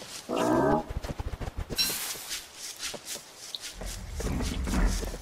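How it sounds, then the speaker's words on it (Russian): Hounds in the survival video game Don't Starve Together barking and growling in a rapid burst of sharp yaps, followed by thumps, shuffling and rising rumbling game noise, with no speech. "Где-то собаки."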